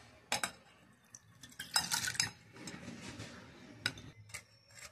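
Soaked tamarind pulp being strained in a kitchen, with soft clinks of a spoon against a metal strainer and bowl, scraping and tapping in short bursts, quiet and close.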